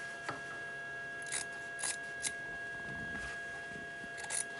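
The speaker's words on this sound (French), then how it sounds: "Et je viens ensuite couper l'excédent." Scissors cutting excess denim fabric, several sharp crisp snips at uneven intervals, close and quiet against low background hiss, no talk.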